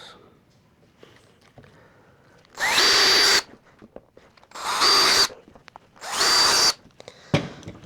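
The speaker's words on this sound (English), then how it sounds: "Time to drill our pilot holes." A power drill whirs in three short bursts separated by pauses while drilling pilot holes, close and loud, with a fourth burst starting at the end.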